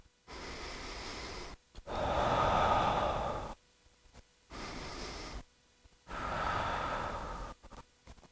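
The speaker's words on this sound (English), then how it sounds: "Breathing in and out." Slow, deep breaths during a gentle yoga session, each inhale and exhale lasting about one to two seconds and separated by brief silences, close and clear, with no talking.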